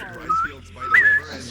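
A person whistles two short rising notes, close and clear, with a brief gap between them and quiet background sound.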